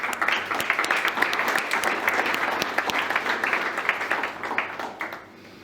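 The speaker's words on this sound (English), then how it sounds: "maybe a round of applause for all the organizing parties" Sustained clapping from a conference audience at a climate hackathon kick-off in Bratislava, many hands applauding at a steady level before fading out near the end, with no voices heard.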